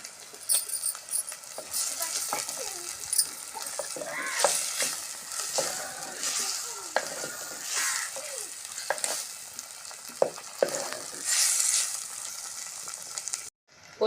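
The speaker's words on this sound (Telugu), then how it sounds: "ఉల్లిపాయలు వేగిపోయాయండి, టమాటాలు వేద్దాం" Chopped tomatoes dropped into onions frying in a pan for a drumstick chicken curry, a soft continuous sizzle with scraping stirs and clinks of a spoon against the pan.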